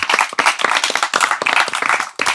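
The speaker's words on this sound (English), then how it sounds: "Can we get a round of applause for Sadhguru, everybody?" An audience applauds Sadhguru at the close of a talk, with brisk, crisp claps that sound close and lively, rising and dipping in short bursts over a couple of seconds.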